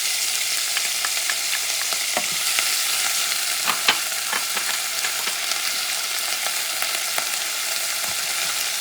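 Sofrito with onions frying in a pot for a Puerto Rican white bean stew gives a steady, close sizzle, broken by occasional sharp clicks and scrapes of stirring, with no talking.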